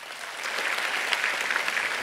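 Audience applause at an Indonesian climate forum gathering, a dense steady patter of many hands clapping that swells slightly and holds.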